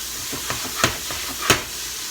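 Beef stew meat dropped into a hot pan without flour, searing with a soft steady sizzle and a few sharp crackling pops, close and moderately loud with no talking.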